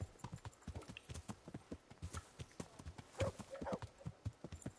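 Hooves clatter rhythmically as a horse walks in the medieval game Kingdom Come, close and distinct strikes with a brief tonal snort or whinny midway.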